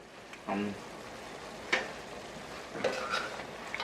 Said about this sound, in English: Just want to give that a quick stir.